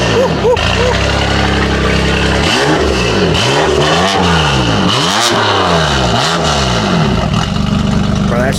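BMW engine at a BMW-only car meet, a convertible M4 among the cars, revved hard and close in a series of rising and falling blips over steady loud engine roar.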